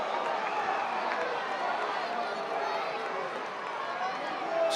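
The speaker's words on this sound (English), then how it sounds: "This crowd, despite the 4-run lead, getting a little testy" A baseball stadium crowd at an Auburn versus Stetson game, a steady dense murmur of many voices with scattered calls and shouts, loud and sustained throughout.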